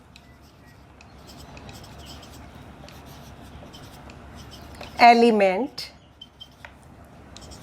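Faint scratching of writing on a board runs quietly through a chemistry lesson, a soft continuous scrape with a brief spoken word cutting in midway.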